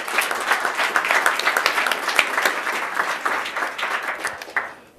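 A morning startup-pitch gathering in Kansas City breaks into loud, dense applause from a sizeable audience, sustained clapping for about five seconds before it abruptly cuts off.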